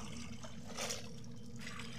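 Faint, steady trickle of tap water kept at a low flow while clothes are washed by hand, a soft continuous splashing with no voices.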